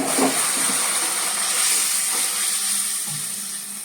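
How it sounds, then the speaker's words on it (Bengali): A loud, steady hiss of water hitting spice paste frying in oil for a Bengali hilsa fish curry, sizzling continuously and fading slightly near the end. "মশলা থেকে তেল ছেড়ে দিয়েছে, এবার জল দিয়ে দেব।"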